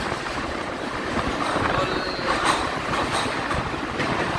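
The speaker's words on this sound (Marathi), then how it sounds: "कोकणातले त्याच्यामधून आपली इंडियन रेल्वे जाते" An Indian Railways train rolls past through the Konkan region with a steady, loud rumble and rattling wheels, continuous throughout, with no voices.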